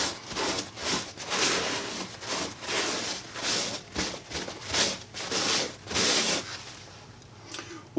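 Paint being wiped across model railroad mountain scenery, heard as a steady series of close, dry rubbing and scuffing strokes that continue one after another with no speech.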